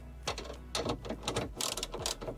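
A ratchet clicks in quick bursts while it tightens 10 mm bolts on the front window regulator of a Fiat Grande Punto, giving close, crisp repeated clicks in a steady rhythm with short pauses.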